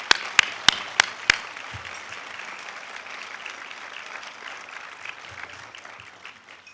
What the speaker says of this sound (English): Let's give them another big applause.